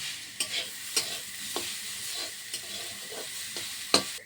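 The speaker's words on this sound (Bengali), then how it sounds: "ভালো করে ভেজে নিই, ভাজা ভাজা হয়ে গেলে, নাড়া হয়ে গেলে একটু চিনি দেবো।" Grated coconut frying in a pan for a sweet filling, a steady soft sizzle broken by several sharp scrapes of a spatula stirring at irregular intervals, no voices.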